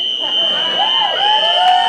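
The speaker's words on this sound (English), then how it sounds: "We'll continue this show when this fire alarm stops." A building fire alarm sounds during a comedy show, a loud steady electronic buzzing tone that holds without a break for the whole stretch, with crowd murmur and voices underneath.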